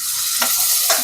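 Minced garlic frying in hot olive oil, a continuous close sizzle with two brief scraping stirs of a utensil in the pan.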